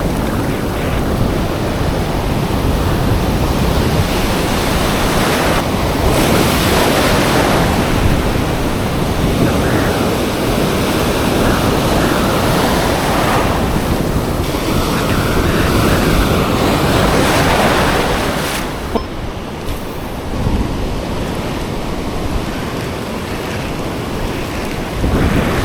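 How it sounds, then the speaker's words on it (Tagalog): Big ocean waves surge and crash around a fishing boat at sea off Bolinao, a loud, continuous roar of churning water and wind that swells and ebbs throughout, with no talking. "Grabing alon oh."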